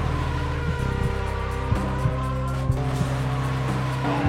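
Race car number 5, clipped in the left rear quarter by car 22, slides sideways into the wall, a loud steady engine roar close by with sharp thuds and knocks breaking through as it scrapes along.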